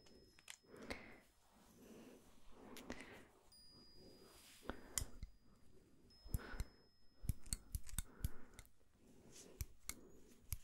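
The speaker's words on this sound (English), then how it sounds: "Let me just cut a bit your plastic nails." Scissors snip plastic nails in a whispery ASMR setting, giving close, crisp clicks and cuts in irregular bursts alongside soft breaths and small handling sounds.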